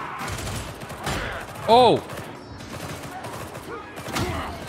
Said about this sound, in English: We've got laser guns.